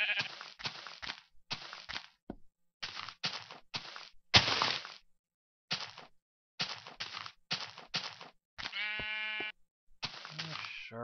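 Sheep in the video game Minecraft bleat repeatedly amid gameplay sounds, with a wavering bleat standing out near the end while a person talks throughout.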